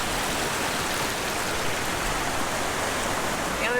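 Water rushing at a trail stream crossing on the Salmon River Trail, a loud, constant broadband wash of flowing water close by with no break.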